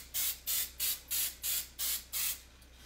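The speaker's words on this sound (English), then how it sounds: "I'm gonna spray every little hole." Coconut cooking spray misted into the holes of a baking pan: seven short, evenly spaced hissing bursts, close and fairly quiet, with brief pauses between.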